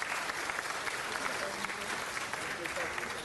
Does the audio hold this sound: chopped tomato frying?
no